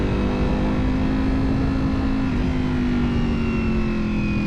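A Ducati V4 motorcycle engine fitted with an expensive aftermarket exhaust drones steadily and loudly throughout, its tone easing slightly lower toward the end, with no talk.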